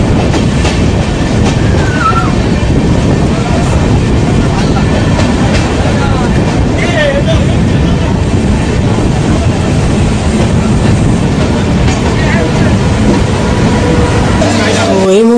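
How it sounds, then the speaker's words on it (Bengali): The Sairang Kolkata Express rumbles into Krishnanagar City Junction on its inaugural run. A loud, steady roar of wheels and carriages continues throughout, with faint squeals and a sharp screech near the end. "আমাদের সাইরাং কলকাতা এক্সপ্রেস এখন কৃষ্ণনগর সিটি জংশনে পৌঁছাচ্ছে"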